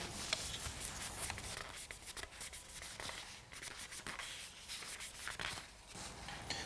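A cloth rubs isopropyl alcohol over a painted bicycle frame to clean it, producing soft, quiet scrubbing and wiping strokes in an irregular back-and-forth rhythm, close up with no talking.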